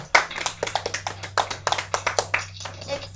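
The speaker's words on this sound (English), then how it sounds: "Give them a round of applause" Pupils and staff clap at a school assembly, a sparse group of distinct claps with uneven rhythm, fairly close, over a low steady hum.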